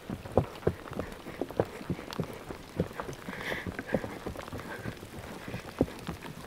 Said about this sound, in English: We got a freak little fat rainstorm going on